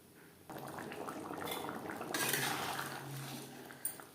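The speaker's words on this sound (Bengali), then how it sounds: "3-4 মিনিট গ্রেভি বেশ ভালো করে ফুটিয়ে নেব।" Potato and kohlrabi curry gravy with yogurt and water simmering in a pot, a soft steady bubbling hiss heard close and quiet, with a faint clink near the end.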